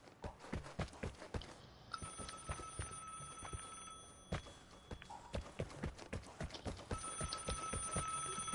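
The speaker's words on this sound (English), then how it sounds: "Kinda wanna just ring that phone." An old-style bell phone rings repeatedly in the Vigor video game, sharp metallic trills recurring amid gunfire-like thuds and clattering game sounds, fairly loud and close.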